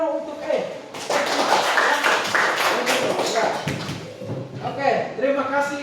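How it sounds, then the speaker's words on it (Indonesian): A classroom group claps in a burst of applause, many hands tapping quickly and unevenly, fairly close, while voices talk over the clapping. "Tepuk tangan dulu untuk ya."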